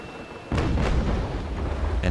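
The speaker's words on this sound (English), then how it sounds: "Chain's about to reload on my front gun, so I can fire some Chain into her sails again." Ship cannon firing chain shot in the Naval Action video game, a sudden deep booming blast followed by a rolling low rumble, with a second sharper crack near the end and a voice faintly present.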